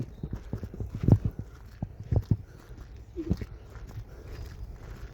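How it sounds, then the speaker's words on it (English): A donkey walks on hard ground near a barn at a nature center, its hooves giving irregular clip-clop steps, some sharper and louder, close by with faint background sound. "Donkey."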